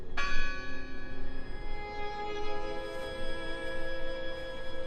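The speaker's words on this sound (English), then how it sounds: "The bell's still ringing." Church bell in the horror video game Draugen rings out with one struck tone that hangs and slowly decays, clear and resonant over a faint ambient hiss.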